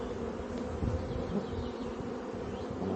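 Honeybees hum in a dense, continuous buzz close to the hive as they come and go, a steady drone with no voices over it.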